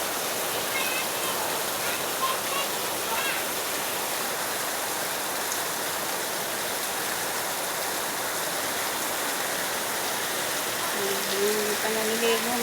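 Heavy rain pours down continuously in a dense, loud, even hiss, with a faint voice briefly audible near the end beneath the downpour.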